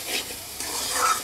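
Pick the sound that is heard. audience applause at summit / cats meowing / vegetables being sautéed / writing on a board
vegetables being sautéed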